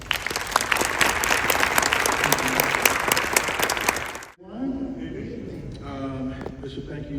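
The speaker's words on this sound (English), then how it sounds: "And now let's give a round of applause to all of those." Audience applause for elected officials at a formal ceremony with a bishop and judge present, sustained clapping from a crowd for about four seconds, then cutting off as a speaker's voice takes over.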